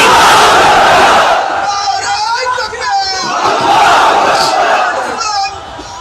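A large crowd at an outdoor Islamic sermon gathering roars back a loud, unified Takbir chant in answer to a call, swelling in long shouted waves, with voices overlapping close and powerful.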